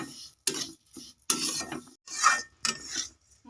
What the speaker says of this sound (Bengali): মুগ ডালটাকে এখন ঘিয়ের উপরে ভেজে নেব।